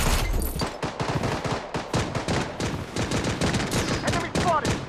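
Rapid gunfire bursts from the video game Blood Strike, dense overlapping shots in a squad firefight, loud and continuous with a few brief game voice cues.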